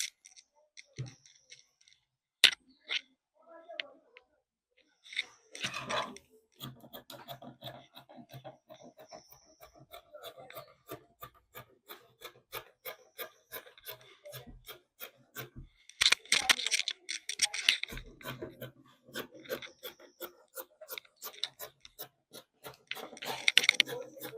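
Scissors cut through fabric for a fringe dress, making a long run of quiet, rhythmic snips and rasping crunches. A few busier bursts of cutting stand out, and no voices are heard.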